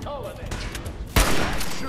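Rapid gunfire from a slow-firing weapon in the Fallout 4 Nuka World video game, a dense burst of shots with a sharp loud crack near the end, heard alongside game sound.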